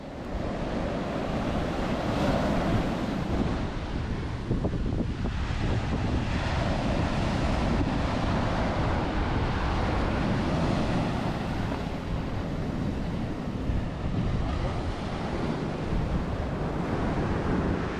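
Ocean surf at Besant Nagar Beach in Chennai, a loud, continuous roar of breaking waves mixed with heavy wind buffeting the microphone, steady throughout with no clear pauses and no talking.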